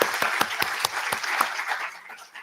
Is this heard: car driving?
no